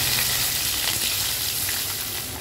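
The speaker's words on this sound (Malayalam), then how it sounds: "കടുക് പൊട്ടട്ടെ" Mustard seeds crackle in hot oil, heard as a close, continuous sizzling hiss with faint scattered pops that stays steady and gradually eases off slightly.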